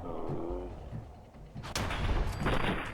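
Gunfire in the video game Fallout 4: a few sharp shots burst out in the second half, loud and close, after an opening stretch of low rumbling game ambience.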